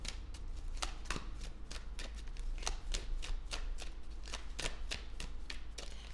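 Deck of tarot cards being shuffled, a repeated series of crisp riffling snaps and flutters at close range, steady and moderately quiet over a low background hum.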